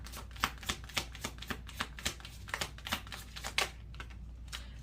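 Tarot cards are shuffled and drawn in a steady run of crisp, rapid flicks and light slaps, close by, over a low constant hum, with no talk.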